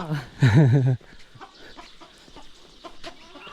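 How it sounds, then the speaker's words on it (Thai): A chicken gives one loud, close call in a quiet hill village at midday, followed by faint scattered clucks and small background sounds. "ฟังเสียงไก่ฮ้อง"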